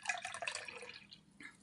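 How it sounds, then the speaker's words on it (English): Tea pours into a cup in a faint, close trickle, with liquid splashing and dripping steadily for under two seconds. "I'm going to pour a cup of tea now"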